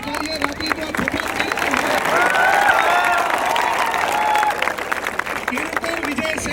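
A crowd at a student protest bursts into sustained applause, with dense clapping that swells slightly in the middle while a voice calls out over it.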